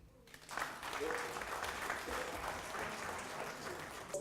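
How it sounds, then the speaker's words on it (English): A seated audience at the WAFU 2017 Cup of Nations draw ceremony in Ghana breaks into sustained applause for the sports minister, starting after a brief quiet moment and continuing as a full, even wash of clapping. "Les applaudissements pour le ministre du Sport."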